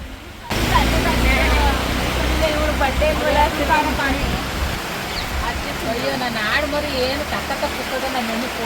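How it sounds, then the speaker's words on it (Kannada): Rain falls steadily on the sheet roof of a small village shop, making a constant, dense rushing patter. People talk over it throughout. "ಮಳೆ ಬರ್ತೈತೆ ಅಂತ ಮಳೆ ಮಳೆ ತೆಗಿತಾ ಇದ್ದೀನಿ"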